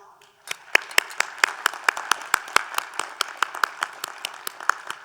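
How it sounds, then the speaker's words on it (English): Scattered clapping at a hybrid university commencement ceremony, about twenty distinct sharp claps in a steady rhythm from a small group, fairly close and moderately quiet, starting after a brief pause. "Can we take a moment to extend our appreciation to them all with an applause?"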